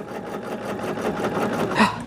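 A sewing machine stitches quilt pieces for flying geese blocks, its motor running in a steady, even drone with a faint rhythmic pulse that swells slightly near the end.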